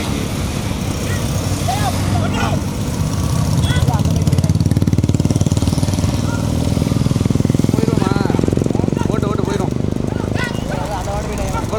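Motorcycle engines drone steadily throughout at a bullock cart race, rising and falling in intensity, with excited voices and crowd noise layered over the engine hum.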